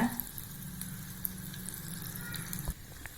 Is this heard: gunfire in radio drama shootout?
no